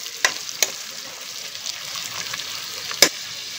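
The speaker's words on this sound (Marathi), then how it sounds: "फरसबी, टमॅटो, हे सर्व आपण मिक्स करून घ्यायचं आहे." Green beans and tomatoes being mixed in a frying pan, a steady sizzle with a couple of sharp clinks of the spoon against the pan, close and fairly loud.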